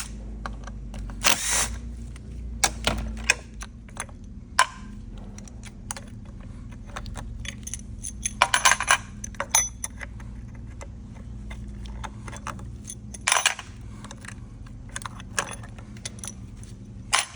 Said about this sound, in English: Using your 5mm Allen wrench, remove the half moon clips off the top of the membranes.